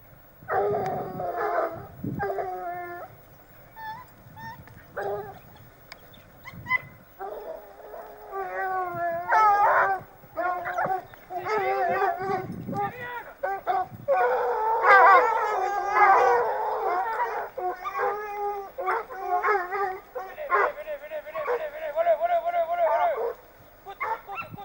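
A pack of experienced hunting hounds bays and howls on the trail of a hare in brush, overlapping voices rising and falling in irregular bursts at moderate distance, with no talking.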